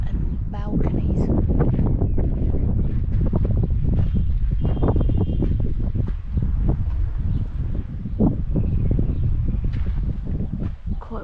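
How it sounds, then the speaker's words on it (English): Strong wind buffets the microphone outdoors in a ruined Catalan village, roaring and gusting continuously at close range, with a person speaking under the noise. "Quite windy today."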